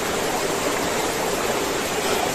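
A forest river stream rushing steadily nearby, a dense, even wash of flowing water with no breaks.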